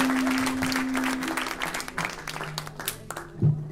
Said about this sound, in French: On applaudit Nathan Mathieu et on vous remercie pour son discours très dynamique.